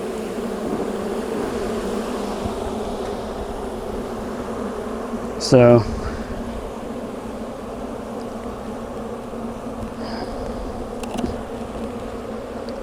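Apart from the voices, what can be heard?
bees buzzing around a beehive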